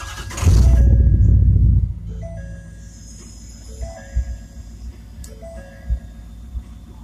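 A 2011 6.7 engine cold-starts at minus 26 degrees, firing with a loud, low cranking burst lasting about a second and a half. It then settles into a quieter, steady idle with occasional knocks, close to the listener.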